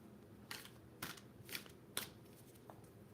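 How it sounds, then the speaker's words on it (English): Tarot cards shuffled by hand in four quick, evenly spaced riffling bursts, close but quiet, with no talk. "Just a little bit more shuffling here."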